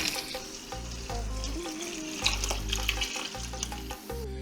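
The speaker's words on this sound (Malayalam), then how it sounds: "ഒത്തിരി വെള്ളം ഒഴിച്ചു കൊടുക്കണം കേട്ടോ. നിറച്ചൊഴിക്കണേ." Water is poured into a ground mango seed paste, a steady close liquid pour and splash running throughout alongside a low repeating hum, with no one talking.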